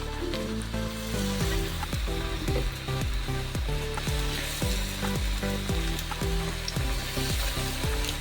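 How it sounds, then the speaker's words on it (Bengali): Egg and cabbage chops fry in medium-hot oil in a frying pan, a dense, steady sizzle close up with a regular series of soft thuds and clatters as pieces are set in and moved. "এবার আমি এই চপগুলোকে একটা একটা তেলের মধ্যে দিয়ে দিলাম।"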